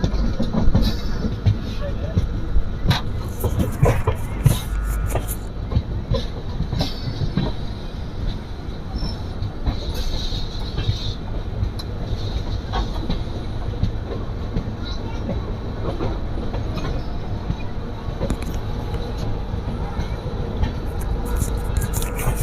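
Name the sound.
Hemkunt Express train entering Shri Mata Vaishno Devi Katra station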